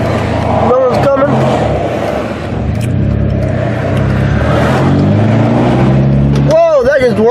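A race car engine runs steadily right after starting, a loud close rumbling drone that holds throughout as someone talks over it in places.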